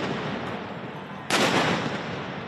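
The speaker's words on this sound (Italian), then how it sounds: "Pietre, bottiglie e petardi vengono scagliati contro le forze dell'ordine" A firecracker bursts during street clashes between protesters and riot police in Rome, a sudden loud crack that jumps out of a constant roar of crowd and street noise.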